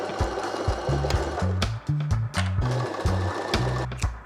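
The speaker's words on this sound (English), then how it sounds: "I'll sew these two top panels together to make the whole." A sewing machine runs in quick stop-start bursts, joining two top fabric panels cut from a tablecloth for a bag, its motor humming and whirring close by without pause.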